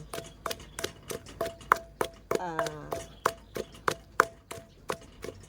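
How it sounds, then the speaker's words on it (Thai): Close, steady pounding of herbs with a pestle in a mortar for khanom chin curry sauce, about three sharp thuds per second, with a brief voice heard in the middle. "เราจะตำให้มัน ละเอียดกว่านี้หน่อย"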